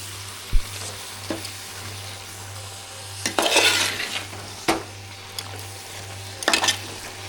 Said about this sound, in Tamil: மல்லித்தலை சேர்த்து நல்லா ஒரு வாட்டியாக நல்லா கலந்து விட்டுடலாம்